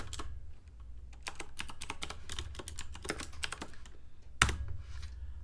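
Fingers type on a computer keyboard in quick irregular runs of close, crisp key clicks, with short pauses and one louder sharp strike near the end.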